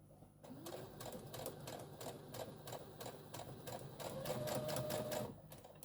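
Domestic sewing machine stitching a fabric cushion, running in a steady rapid mechanical rattle with regular needle strokes, close and continuous, speeding up slightly toward the end.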